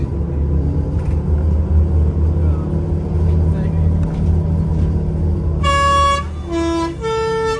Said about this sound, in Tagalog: Dito yung busina ng bus.